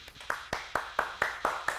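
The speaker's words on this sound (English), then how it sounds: "Everybody clap." Audience clapping in a rhythmic, evenly spaced beat, about eight sharp claps in under two seconds, moderately loud and close, with no talking.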